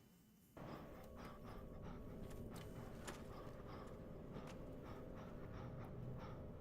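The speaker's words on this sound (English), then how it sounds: "These fucking bone dogs are genuinely a nightmare." Skeletal bone dogs in the video game Dark Souls, panting in rapid, rhythmic breaths with clattering footsteps nearby, a dense layered creature noise that starts abruptly and continues throughout.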